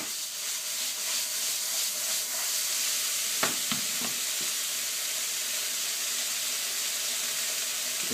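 Vegetables for ratatouille sizzle steadily in a hot pan, a continuous frying hiss close by, broken by a few sharp scrapes and clinks of stirring around the middle.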